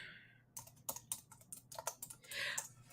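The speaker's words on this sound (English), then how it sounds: "I keep trying to type on this keyboard" Soft, uneven keystrokes on a computer keyboard with dead batteries, a scattered run of faint clicks and taps with a little background hiss.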